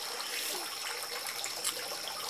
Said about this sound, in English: watch some more waterfall